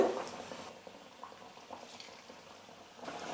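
Vada batter sizzles softly in hot oil, a faint, steady crackling and bubbling of frying with brief louder bursts, heard alone without talk.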